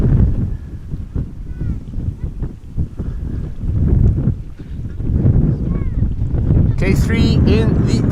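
Strong gusty wind at Amsterdam Schiphol Airport rumbles loudly and steadily across the microphone throughout, with a brief higher-pitched burst near the end.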